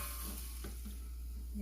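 Apple is being stirred in a thin cooking pot, with steady scraping and stirring over a continuous sizzle, close and at moderate volume.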